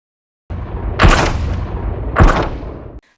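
Gunfire in the action film Operation Fortune as Mike shoots the Ukrainian mafia owners of the goods: two loud, sharp shots about a second apart over a rumbling background, no talk.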